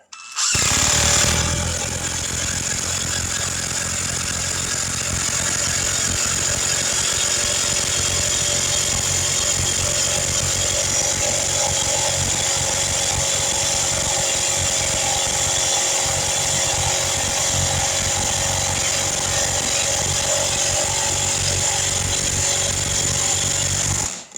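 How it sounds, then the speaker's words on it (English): A Porter Cable impact driver with a 7/16 socket drives a full-length bolt down into wood, giving a loud, continuous rapid hammering whir that runs almost unbroken for over twenty seconds with no talking. "we'll put the full bolt up here in the wood and just drive it down"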